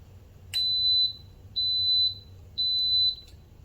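An electric pressure cooker starting a pressure-cook cycle gives three clear high-pitched electronic beeps, each about half a second long, evenly spaced a second apart, with faint background hum.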